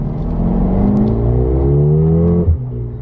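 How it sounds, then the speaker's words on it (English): A Mercedes-AMG GLB 35 SUV with a single-turbo engine and 4MATIC all-wheel drive accelerates hard in second gear. The engine note climbs loudly and steadily, then dips sharply at a shift near the end. "that single turbo sort of spools up and that 4MATIC works together, and it really gives you that nice pull right off the bat"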